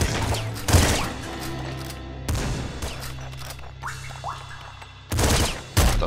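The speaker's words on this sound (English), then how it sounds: "it's a shotgun" Shotgun blasts in the video game Nuclear Throne, several loud punchy shots spaced a few seconds apart, over a steady droning game soundtrack.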